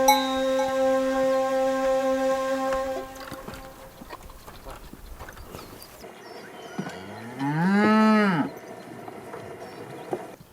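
A cow gives a long, loud moo close by in a pen beside a mountain hut, after a steady droning hum fades and other farm sounds continue in the background.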